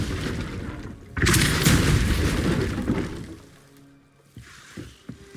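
A Repulsor spell cast in a Harry Potter video game, a sudden loud blast of force that swells and rumbles for a couple of seconds before fading into quieter game ambience with small knocks.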